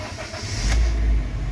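A car engine cranks and catches, settling into a steady low idle rumble close by, with no voices over it.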